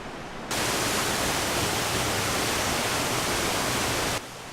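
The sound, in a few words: waterfall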